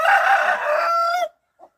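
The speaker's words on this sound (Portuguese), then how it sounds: "E ao som de um galo desse." A rooster crows once, close and loud, in a long harmonic call that cuts off abruptly, followed by a brief soft cluck.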